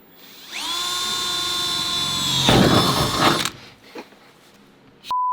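A power drill bores the first hole through the sheet-metal body of a Mercedes Sprinter van for a window install. The motor winds up to a loud, steady whine, then grinds through the metal and stops, followed by faint handling noises.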